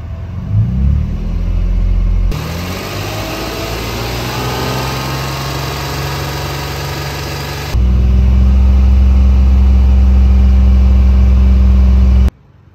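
A 2016 Ford Transit Connect engine is started after a jump start, cranking briefly before settling into a loud, steady idle, which rises in level partway through and then cuts off abruptly.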